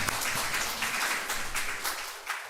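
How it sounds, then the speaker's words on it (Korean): A church congregation applauds to welcome a visiting married couple, a dense, even wash of clapping throughout with a low murmur underneath. "박수로 환영하겠습니다"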